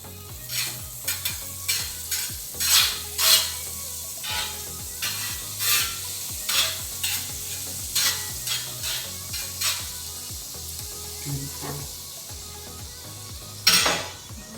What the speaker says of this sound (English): Nice and sizzling hot.